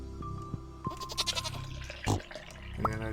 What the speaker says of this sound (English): Okay, no milk from the goats today